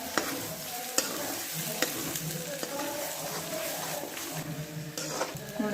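Eggs stirred in a hot pan for an egg and peas curry, with steady sizzling and repeated scraping clinks of the spoon against the pan, close and continuous with no talk.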